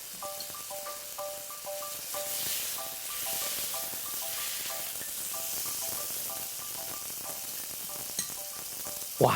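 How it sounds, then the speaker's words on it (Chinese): Pork chops sizzle gently in a covered pan with a splash of pineapple juice over medium-low heat, a steady soft hiss throughout with faint repeated electronic beeping tones in the background. "我们就只要把它盖上盖子，我们转中小火煎了双面焦黄就好咯"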